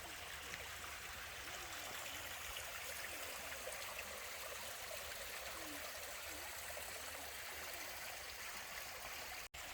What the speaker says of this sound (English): And now, the soothing sounds of the water.